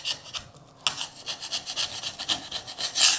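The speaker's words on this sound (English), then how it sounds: "We got a lot of silicone to clean off." Old silicone being scraped and cleaned off a shower wall after a long leak, a rhythmic series of close rasping strokes, about a dozen quick scrapes with no talk.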